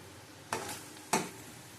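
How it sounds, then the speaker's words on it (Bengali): Two brief bursts of stirring and sizzling, about half a second apart, as onions fry in a pan, faint against a quiet background. "পেঁয়াজ ভাজা হয়ে গেছে আমাদের এর থেকে বেশি লাল করব না দেখো"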